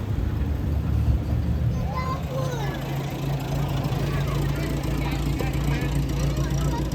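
A VW Beetle-powered Brubaker Box minivan rolls through parade laps at a small-car show, its engine a low steady drone beneath continuous crowd chatter and talking nearby.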